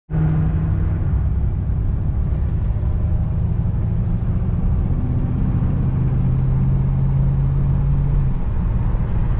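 LS-swapped 1987 Jeep Grand Wagoneer cruising at 40 mph, a steady low engine and road rumble that holds close and loud from start to finish with a faint sustained drone layered on top.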